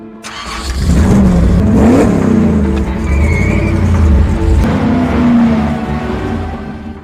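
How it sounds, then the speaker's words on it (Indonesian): A Ford Mustang GT 500 engine cranks, catches and revs in rising and falling throaty pulls, loud and close, then settles into a rough idle between revs. "Cukup mudah bagi Memphis untuk mencongkel pintu dan menyalakan mesin Mustang GT 500 ini"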